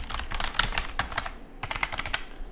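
Rapid, uneven clicking of keys on a computer keyboard as a password is typed on a Windows laptop, close and clear with a short pause partway through, no talking.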